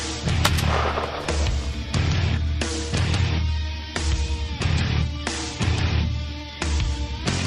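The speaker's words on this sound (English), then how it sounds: "Shoot him." A gunshot rings out outdoors during a hunt, followed by a dense run of loud, overlapping booms and crackling echoes that continue through the whole stretch with no voices.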